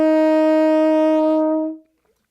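A cornet holds a single steady F, loud and close, with a clean tone that fades to silence.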